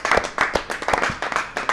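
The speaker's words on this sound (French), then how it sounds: "Ça s'applaudit encore même." A small group at a dinner gathering in Chambéry claps in short, uneven bursts, the sound close and lively, with some voices briefly mixed in.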